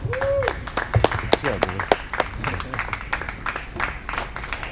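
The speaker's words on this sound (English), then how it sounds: "let's give him a nice round of applause" A small open mic night crowd at a brewery claps in a scattered, moderately loud round of applause, with a voice talking over the clapping throughout.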